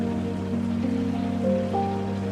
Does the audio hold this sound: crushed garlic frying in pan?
no